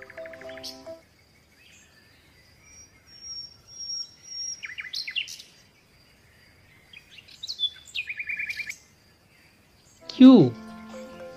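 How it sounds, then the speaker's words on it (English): A parrot gives a series of bright whistles and chirps, then a loud, harsh, falling squawk near the end, all close and with quiet gaps between calls. "P for parrot."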